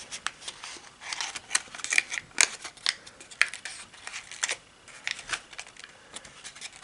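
Paper square being folded for origami: crisp, irregular crinkles, rustles and sharp creasing snaps, close by and fairly quiet, with no talking.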